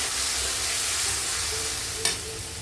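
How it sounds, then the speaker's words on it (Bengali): Masala with red chilli powder and a splash of water being stir-fried in a pan for a mustard prawn curry, a steady close sizzle with a brief sharp spatter near the end. "আর মশলাটা যাতে জ্বলে না যায় তার জন্য একটু জল দিয়ে ভালো করে কষিয়ে নেব।"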